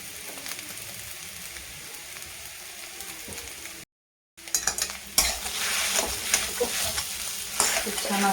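Spiced potato filling for aloo paratha sautéed in a pan, a moderate crackling sizzle with stirring scrapes, a brief silent gap, then a louder, hissier frying burst.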